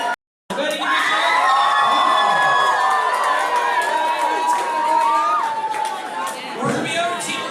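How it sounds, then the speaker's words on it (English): A room full of Hillary fans breaks into loud, sustained cheering and shouting with whoops, filling the space for several seconds before dipping briefly near the end and then picking up again. "Hillary fans, can you cheer? Hillary? Ready, give me a shout."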